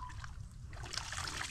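Water trickling and flowing through a farm irrigation channel, a faint continuous burble with light splashy detail and no talking.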